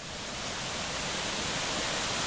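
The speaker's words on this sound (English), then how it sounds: "Still hear the water over there" Water flowing in a stream through mountain woods on a Colorado hike near Waterdog Lakes, a steady broadband rush that stays loud and even throughout, with no talk.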